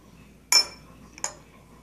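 A young child's spoon clinks twice against a bowl of oatmeal, sharp and close, with a short pause between the two taps in an otherwise quiet room.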